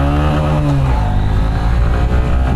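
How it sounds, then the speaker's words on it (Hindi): A Honda SP125 motorcycle launches and accelerates hard, its engine note climbing steadily in pitch as it pulls away, loud and close with a continuous rising drone and no voices. "बाकी यहाँ से मेन रोड पे आ जाते हैं और बाइक को लॉन्च करते हैं"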